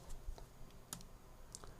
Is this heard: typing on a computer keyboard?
yes